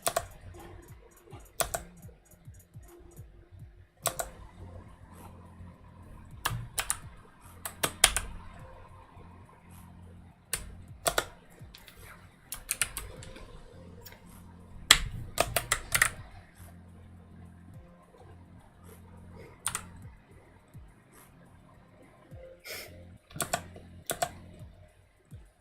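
Typing on a computer keyboard during a coworking session, with irregular bursts of quiet key clicks and occasional louder taps spread across the whole stretch, steady low background hum underneath.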